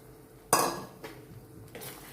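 A spoon scrapes and clinks against a pan while tomato and onion paste cooks in oil for a Gujarati dry tuver dish, with one sharp metallic knock followed by two softer stirring clanks.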